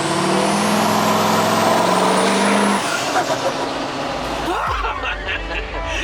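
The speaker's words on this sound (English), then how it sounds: "I just want to find a way to hear this turbo scream" A diesel truck's turbo screams as it drives, a loud high whistle riding over the engine roar that drops off partway through as the truck slows and shifts, with a voice talking over it.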